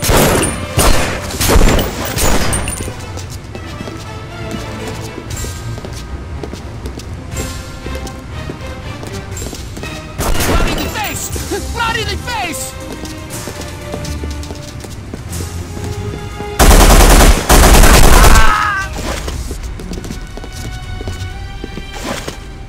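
Gunfire from The Punisher video game, mixed into a dense, loud game soundtrack with bursts of shots and booms, including a heavy loud burst near the end, with brief voices over the action.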